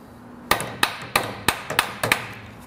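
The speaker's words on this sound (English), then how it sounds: "You can hold one hammer on one side and then tap the nut around." A hammer taps a stuck nut on a bolt while a second hammer is held against the other side, giving seven sharp metallic strikes at an irregular pace, close and loud with brief ringing after each one.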